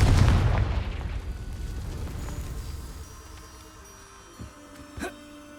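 A Confringo explosive spell in Hogwarts Legacy goes off as a loud, booming blast at the start, with the rumble decaying over several seconds before two sharp pops near the end.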